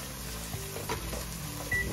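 Eggplant caponata sautéing in a pan gives a steady, close, moderate sizzle with faint stirring scrapes, and no one talks over it.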